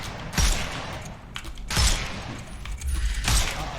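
Gunfire in the Sherlock Holmes Chapter One video game, shooting the armour off enemies: three separate sharp shot bursts spaced about a second and a half apart, each with a thumping impact and ringing tail, no talk.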